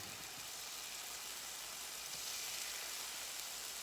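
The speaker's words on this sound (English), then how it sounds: "Gonna start sizzling and doing all that." Steady, faint hiss of chicken frying in oil, an even broadband sizzle with no voices.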